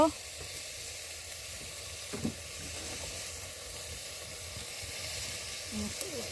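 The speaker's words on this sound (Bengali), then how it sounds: "এখন সব মশলা দিয়ে ভালোভাবে কষিয়ে নিবে হলুদ গুঁড়া দিয়ে নিল" Spices, turmeric and salt frying with bitter gourd and unpeeled potato for a curry, giving a steady broadband sizzle that runs throughout with occasional stirring clatter.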